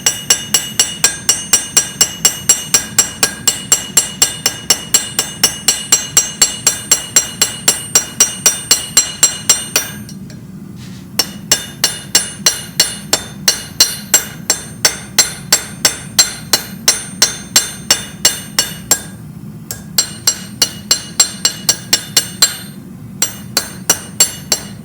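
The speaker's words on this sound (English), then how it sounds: "I'm going to come in with the ball peen." Ball peen hammer striking metal to add decorative hammer marks on a forged lantern yoke, a long run of sharp, ringing, evenly spaced blows with two short pauses, loud and close.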